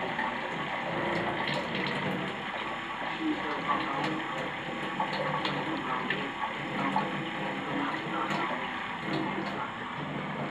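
A Flojet LF-12 water pump runs with a continuous rattling, gurgling churn as it sucks air from nearly empty tanks, fairly loud and close, with a voice briefly heard over it.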